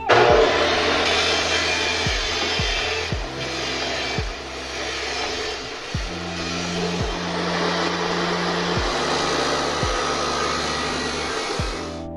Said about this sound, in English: Now it's time to cut the angle iron that I'm going to use for the legs.